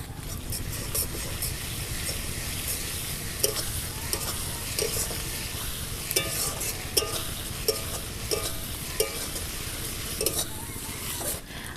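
Ginger and garlic paste fries in hot oil for a potato chicken curry, giving a steady soft sizzle broken by repeated clinks and scrapes of a spoon stirring the pan.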